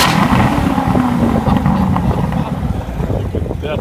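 A 2014 Corvette Stingray convertible idles and rumbles with its exhaust in regular mode, a loud, steady, deep drone that stays close for the whole stretch, with wind buffeting the microphone.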